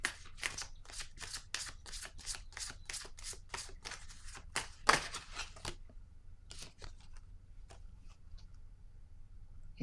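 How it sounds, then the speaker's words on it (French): Tarot cards shuffled and handled on a table, a quick run of crisp papery flicks and riffles, then a few scattered soft taps as cards are laid down, close and fairly quiet with no talking. "Je vais déposer une carte encore."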